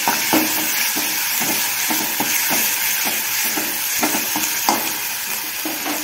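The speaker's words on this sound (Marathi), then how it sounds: "टोमॅटो थोडासा परतून द्यायचा." Tomato and onion fry in a pan while being stirred, a loud close sizzle broken by regular scraping strokes of the spoon, with no voices.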